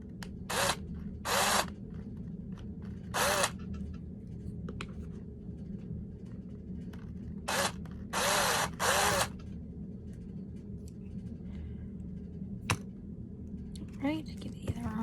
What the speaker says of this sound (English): if your drill thing is drilling crooked, it's because you're holding the drill crooked.